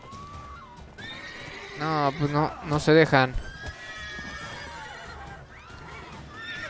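Horse neighing loudly in The Witcher 3, a long whinny with hoof clip-clop and game sounds around it, while someone talks over the scene.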